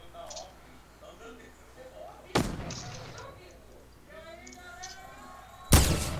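Gunshots in the video game Fortnite: two sharp, loud blasts a few seconds apart, the second louder and closer, while players talk under quieter game noise.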